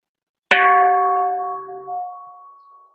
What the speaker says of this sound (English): I'll ring the bell and then we'll begin.